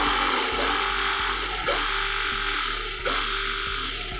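A cordless jet cleaner gun is switched on and runs with a steady, close electric motor whine. Periodic clicks and knocks break into the hum roughly every second, and no one speaks.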